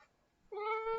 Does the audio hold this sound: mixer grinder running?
no